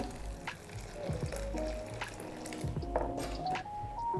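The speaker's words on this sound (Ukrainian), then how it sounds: "Заливаю їх окропом" Boiling water poured over raisins and cranberries in a bowl, a steady liquid fill with soft drips and splashes, close and fairly quiet, with faint kitchen noises and no talk.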